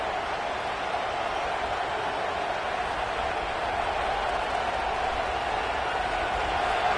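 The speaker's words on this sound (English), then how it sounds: "It's early, but this crowd is fired up. Listen to this noise here." A stadium crowd in the NCAA 26 college football video game keeps up a dense, steady roar that swells slightly toward the end, with no clear voices above it.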